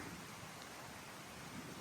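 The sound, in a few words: rain and wind outdoors near Clarendon Gorge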